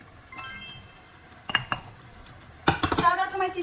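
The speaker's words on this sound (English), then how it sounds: "Now let's add our purple cauliflower." Purple cauliflower tossed into a beef stir-fry pan with bok choy: a quiet pause, then a few sharp clanks of utensils on the pan and a louder, denser clatter near the end, close by, with faint voice-like tones early.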